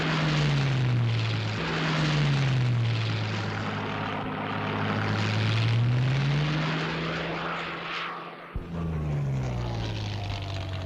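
A WWII propeller aircraft flying overhead, its loud droning engine swelling and fading as it passes, with a steady low hum and a brief dip near the end.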